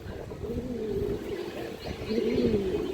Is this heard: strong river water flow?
no